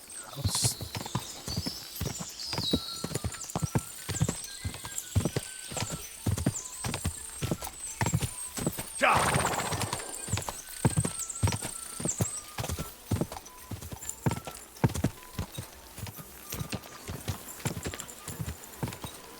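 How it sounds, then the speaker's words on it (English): Steady rhythmic clip-clop of hooves at a quick pace in the video game Kingdom Come: Deliverance 2, close and clear, with a brief horse whinny partway through. "It's not as fast as that other horse."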